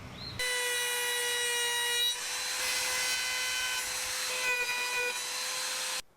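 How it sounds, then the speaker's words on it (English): A router cuts along the edge of a wooden bar stool with a loud, steady high-pitched whine. It starts abruptly, dips in pitch briefly partway through as it bites the wood, and then stops sharply at the end. "whichever direction your index finger is pointing, that's the direction to run your router."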